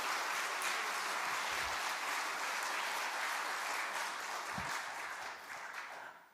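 A church congregation applauds its pastor during a Friday late-night prayer service, a continuous, even roar of many hands clapping together that stays full and steady, easing slightly toward the end.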